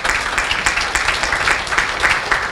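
Loud, dense applause for a malaria team at a Surinamese public health event marking readiness for malaria-free certification, with many hands clapping continuously in a lively, rippling roar.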